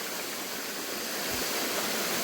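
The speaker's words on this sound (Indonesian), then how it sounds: "Wah, banyak pancuran." Many water spouts pour on a mountain trail, making a loud, continuous rushing hiss with no break and close by, while a faint low thump sounds partway through.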